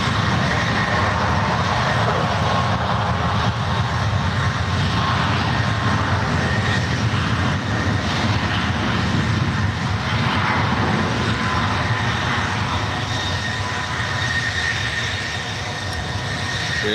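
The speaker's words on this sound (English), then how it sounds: "There goes Air Canada up to Vancouver, flight 565 today." An Air Canada Boeing 737 Max 8 departs from SFO for Vancouver, a loud, steady broadband engine roar that holds throughout with no speech over it.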